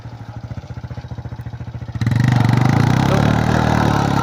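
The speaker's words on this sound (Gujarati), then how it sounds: "અમિતભાઈ બાઇક જવા દીધું ઉપર" A motorcycle putters at a steady idle, then revs up loudly and pulls away up a rough, rocky hill track toward a hilltop temple, the engine close and continuous.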